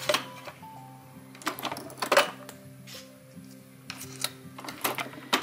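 An espresso capsule machine brews Inspiration Napoli coffee at home, with mechanical clicks and clunks, a low steady pump hum with tonal lines, and bursts of hissing and sputtering through the clip.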